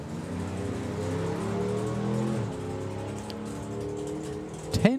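A Duster drag car at a drag-racing event pulls away with a strong engine roar that climbs through the gears with a shift partway, heard at moderate distance, followed by a sharp burst at the end.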